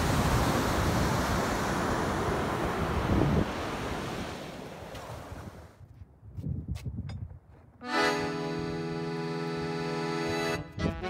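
Ocean waves wash onto the beach at Assateague Island, a loud rushing surf with heavy wind buffeting the microphone, then quieter swells and a steady tonal hum in the later seconds.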